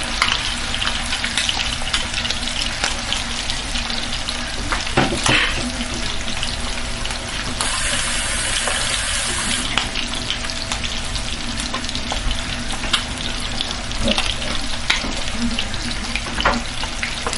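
Chopped onion frying hard in fish sauce in a pan for jollof rice, a loud steady sizzle with crackling spatter throughout, plus a few scraping stirs and a brief hiss of running water partway through.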